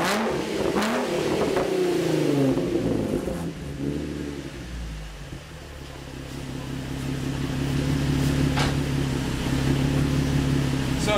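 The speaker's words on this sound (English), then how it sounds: "this exhaust is savage when you rip into it." Nissan 350Z or Infiniti G35 with a Motordyne Shockwave exhaust revving hard, a loud rising rasp that dips to a deep idle burble, then climbs again; faint voice underneath early on.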